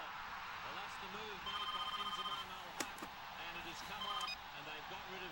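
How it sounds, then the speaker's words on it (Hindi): A telephone rings over a speakerphone after a redial, repeated ring bursts in a steady pattern heard through the speaker, with voices talking over parts of it. "अच्छा, स्पीकर फोन ऑन कीजिए please. Redial. It is ringing. I can hear it."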